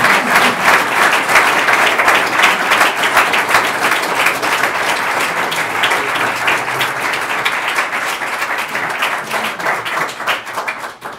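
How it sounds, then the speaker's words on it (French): Sustained applause from a large audience, dense and loud, continuing steadily before tapering slightly toward the end. "Je voulais encore une fois qu'on applaudisse vraiment."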